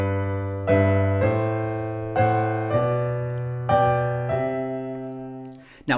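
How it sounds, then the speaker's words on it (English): Rising 6/5 sequence played in three voices, likely on piano: five struck chords stepping upward at a steady, unhurried pace, each ringing and decaying before the next, with a brief noisy touch at the very end. "That's the, quote, rising 6/5, and it sounds like this."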